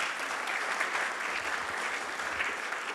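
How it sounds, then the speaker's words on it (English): A seated audience gives a steady round of applause for politicians being honored at a hall of fame event, with even, moderately distant clapping throughout. "So let's give them another round of applause."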